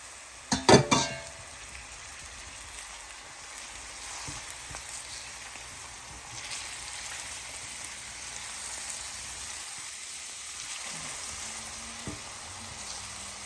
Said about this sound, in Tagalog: Hanggang igisa ng ilang minuto hanggang mag-translucent yung sibuyas.